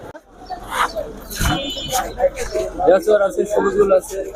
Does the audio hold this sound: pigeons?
yes